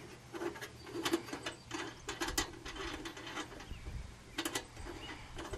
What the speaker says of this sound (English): to clean it, all you do is you take these 2 wing nuts off